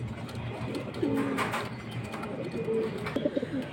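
Pigeons at a breeder's loft give soft, low coos, one call and then a short series a little later, over a faint background hiss.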